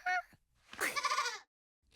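A cartoon goat gives a single wavering bleat, clear and fairly close, after a short burst of other sound, on a farm.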